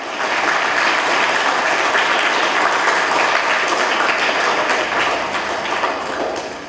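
A school audience at an inter-school abacus competition in Davanagere bursts into loud, sustained applause, a dense wall of clapping that holds steady for several seconds before tapering slightly at the end.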